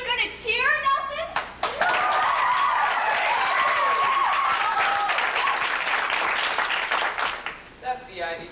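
A crowd in a stage musical set in Oklahoma cheers and applauds loudly after a farm auction closes, the dense clapping and shouts swelling for several seconds between brief spoken lines at the start and end.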